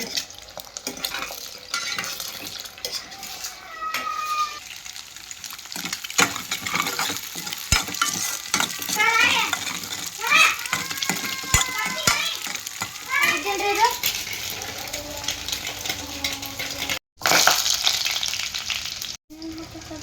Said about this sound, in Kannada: ಇದು ಎಗ್ ಬಿಸಿ ಆಗ್ಯದ ನೋಡ್ರಿ. ಮಿಕ್ಸ್ ಮಾಡಮ್ಮಿ. ಮಿಕ್ಸ್ ಮಾಡಬೇಕು.